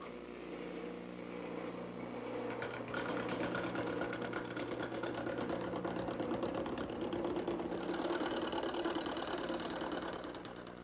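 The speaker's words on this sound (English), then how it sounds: "to begin the turning, I'm going to use a gouge" A chestnut table-leg blank turns on a lathe while a gouge rounds it over, giving a steady, continuous whirring drone with a rough cutting texture throughout, loud and close with no talking.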